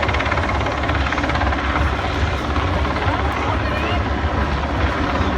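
A Sea King Mark 5 HU search and rescue helicopter roars loud and close, its dense rotor and engine noise steady for several seconds, with someone talking over it.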